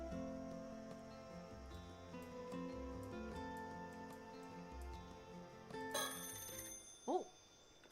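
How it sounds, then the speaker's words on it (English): A telephone rings inside a house in the Paranormasight horror video game, a repeated ringing tone that enters near the end over a steady musical background, followed by a short swooping effect. "Sato, the phone's ringing"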